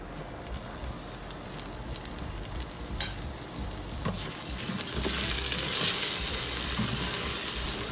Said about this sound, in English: Give it a good stir and keep a close eye on it because we don't want our spices to burn.